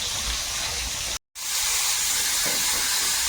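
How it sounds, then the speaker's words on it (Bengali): Bitter gourd fries in hot oil with a loud, continuous hiss and sputter, broken briefly by a moment of silence before the steady sizzle resumes. "একসঙ্গে উচ্ছেটা ভেজে নিচ্ছি"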